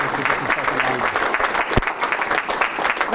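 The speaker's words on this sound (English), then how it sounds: "Give Marv a big round of applause as he goes back." An audience at a live comedy magic show claps steadily as a volunteer returns to his seat, a brisk, continuous round of applause with a brief thump midway.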